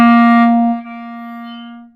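A single sustained clarinet note from a second clarinet part, held alone for about two seconds with a strong attack, then softening slightly before it fades out.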